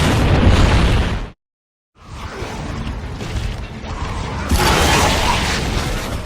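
Grenade explosions in Gears of War 2, loud booming blasts with crackling debris, cut by a sudden second of silence, then more rumbling detonations that build up again.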